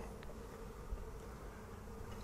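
Honey bees buzz around a backyard hive, a faint, steady insect drone with no talk over it.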